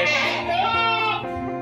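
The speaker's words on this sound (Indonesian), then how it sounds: "Ini lokasinya guys, kambing punya Mas Rido" Goats bleating on an Etawa goat farm, a close, sustained harmonic bleat running through the whole short moment with little else around it.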